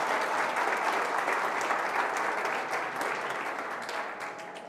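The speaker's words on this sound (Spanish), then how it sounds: "Lo recibimos con un aplauso" A lecture audience applauds a speaker, Dr. Mario Bunge, at a 2010 talk on natural pseudosciences. The clapping is dense and steady and tapers slightly toward the end.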